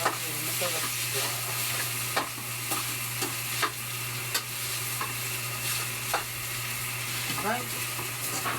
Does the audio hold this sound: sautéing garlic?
yes